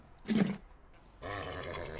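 A short snorting grunt is followed by a longer, rough whinnying call, like a horse sound effect, against quiet background.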